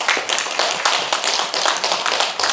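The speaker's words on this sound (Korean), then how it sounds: "문광스님께 다시 한번 큰 박수 부탁드립니다." At a Buddhist education seminar, an audience gives a monk presenter a round of applause: brisk, dense clapping from a small crowd, loud and near, with rhythmic bursts of individual claps standing out.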